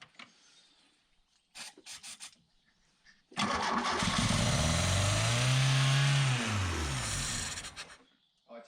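A Volkswagen Golf MK2 Syncro engine cranks in a few short bursts, then catches and runs loudly for several seconds, its pitch rising and falling with a rev before it cuts off.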